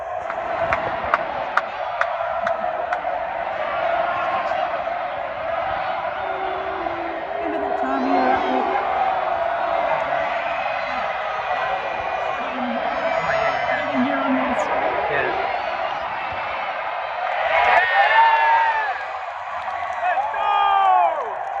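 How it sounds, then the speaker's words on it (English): A stadium crowd at an NRL rugby league match between the Bulldogs and Manly roars and cheers in a broad sustained swell, with whistles, scattered claps and nearby voices over it, rising louder toward the end. "Listen to the crowd."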